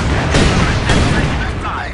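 Artillery bombardment in the World War II strategy game Company of Heroes 2, a dense, continuous barrage of booming blasts and gunfire that rolls on throughout at close range, loud and crowded.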